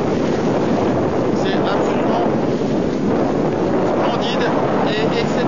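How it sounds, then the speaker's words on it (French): A 30-metre multihull sailboat speeds along in 25 to 35 knots of wind, with a loud, constant rush of wind and water close by, and someone speaking French over it. "sur un multicoque de 30 mètres, entre 25 et 35 nœuds de vent de vitesse"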